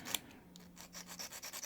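A small drill bit is rubbed by hand against a sharpening paddle, giving faint, quiet rasping strokes that repeat in an uneven rhythm after a single light click, close up with no speech.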